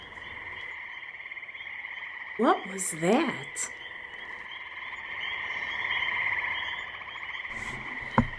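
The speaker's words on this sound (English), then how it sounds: "Peepers and frogs in the dark, cool ponds deep in the country." Spring peepers and frogs croak at night by cool country ponds, a steady chorus of shrill trills running throughout, with a brief voice speaking partway through.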